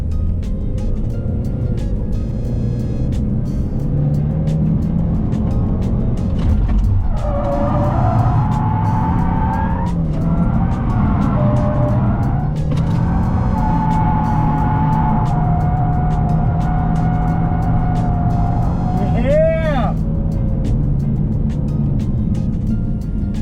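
An automatic Ford Mustang EcoBoost drifts using the handbrake, its engine droning loudly and revving in waves, with long tire squeals and a sharp screech near the end.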